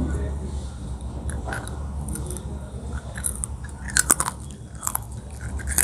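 Crispy homemade raw banana chips being bitten and chewed up close, with a run of sharp, dry crunches that bunch together toward the end over a low background hum.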